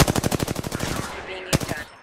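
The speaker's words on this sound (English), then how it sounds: "Opening fire." Rapid automatic gunfire in Apex Legends on Kings Canyon, a dense burst of evenly spaced shots for over a second, then a pause and one more loud shot, close and alone.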